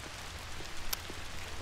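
Night rain in the horror game When the Darkness Comes, a steady hiss of drops pattering on surfaces with a single sharp tick partway through, continuous and even with no voices.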